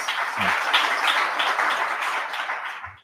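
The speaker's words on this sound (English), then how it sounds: "Another round of applause" An audience at a morning show breaks into applause, a dense, steady wash of clapping that holds for about three seconds before fading out, with no voices over it.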